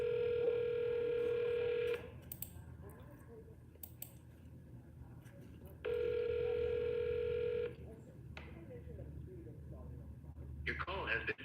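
A telephone dial tone sounds during a call back, with two steady ringback bursts a few seconds apart heard close and clear through a phone speaker, and quiet clicks and faint noise between them.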